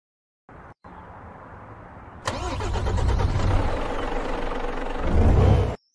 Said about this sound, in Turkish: Arabayı çalıştırır çalıştırmaz hemen açılmıyor.